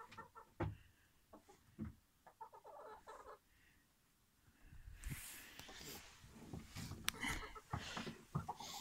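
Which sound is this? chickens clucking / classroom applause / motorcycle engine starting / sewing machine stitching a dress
chickens clucking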